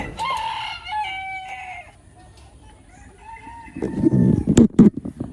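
A rooster on a farm lets out a long, clear crow near the start, then chickens break into a burst of loud, close clucking and squawking toward the end, with no talking.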